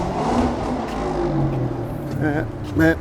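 A car engine revs loudly near an apartment walkway in a residential area of Hope Island, Gold Coast, Australia, a rough sustained roar rising into a sharper climbing burst at the end, with talk over it.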